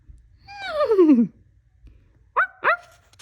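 A small dog named Teddy gives a long falling whine-like yelp, then after a pause two short sharp barks, heard close and fairly loud.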